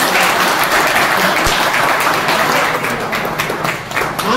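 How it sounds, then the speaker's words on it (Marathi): Former students give loud, dense applause at a school reunion of municipal primary schools in Surat, a sustained roar of many hands clapping close by, with a voice briefly heard near the end. "जोरात टाळ्या वाजवून"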